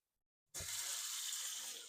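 Tap water gushes into a large pot being filled to boil a ham, starting abruptly after a brief silence and then running steadily and close.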